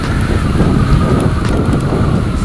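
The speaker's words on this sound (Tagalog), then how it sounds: "Ang lakas ng hangin," Loud, continuous wind buffeting the microphone during a rainy motorcycle ride, a steady roaring rumble with no pauses, close and overpowering.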